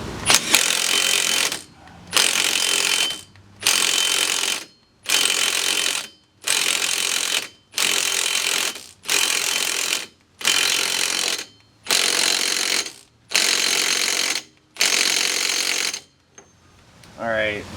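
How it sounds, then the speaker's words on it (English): Ratchet tightening an axle nut on a 2005-2014 Jeep Grand Cherokee front wheel bearing: about twelve loud, close bursts of rapid ratcheting clicks, each roughly a second long, separated by short pauses. "let's go ahead and put this axle nut on forward"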